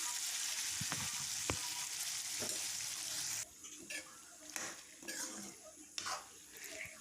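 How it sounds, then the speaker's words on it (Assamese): Onions and tomatoes frying in oil for a local chicken curry, a dense sizzle with spoon-against-pan knocks, the hiss dropping suddenly midway to softer, uneven frying and occasional stirring clatter. "এতিয়া মই ইয়াতে বিলাহী দি দিলোঁ আৰু বিলাহীখিনি গলি যোৱালৈকে মই আকৌ ভাজি থাকিম"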